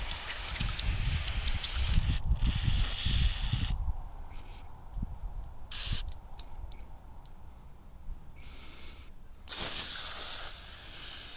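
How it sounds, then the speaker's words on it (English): Several sharp bursts of aerosol carburetor cleaner hiss close up, sprayed through a 1963.5 Ford Falcon Sprint carburetor, separated by quiet pauses and faint clicks, with brief short and longer blasts. "I'm gonna spray through here."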